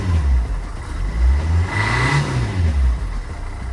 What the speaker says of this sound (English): In fact, it's idling a lot better